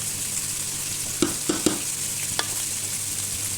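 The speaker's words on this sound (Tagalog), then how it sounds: "Pwede ko na ilagay ang munggo." Mung beans going into a pot for a monggo and pork ribs stew, with a steady hot sizzle and a few quick clacks of a spoon stirring through the beans.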